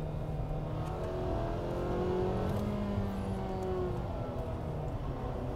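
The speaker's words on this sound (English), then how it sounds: "Now downshift and do the same thing, but rev match for the 2 seconds so that it's a smooth shift." A 2021 Nissan Sentra SR with a manual gearbox downshifts with a rev match, its engine droning steadily and then swelling briefly as the revs climb and settle, heard from inside the cabin without speech.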